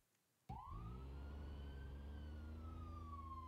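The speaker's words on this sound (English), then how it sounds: "activate your sirens, and turn on your lights" A police siren in the BeamNG.drive driving game starts abruptly and wails steadily, rising and then slowly falling, loud and continuous over a low engine rumble, with no voices.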